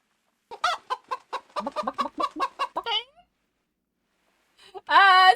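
A chicken character in the dinosaur park game Prehistoric Kingdom gives a quick run of about a dozen loud, rhythmic clucks. After a pause comes a longer, squawking cackle, all close and prominent.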